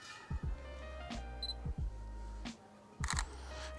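A Sony A6400 camera shutter fires in crisp mechanical clicks, several separate releases spaced across the moment with a tiny electronic beep between them, close and clear over faint outdoor background.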